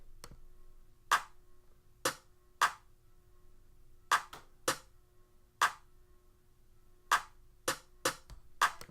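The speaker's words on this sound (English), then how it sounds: "it's just a regular clap, nothing too special. And then I added a snare under it" Sharp, crisp clap hits layered with a snare repeat in an irregular pattern, each transient snapping out over a quiet background hum.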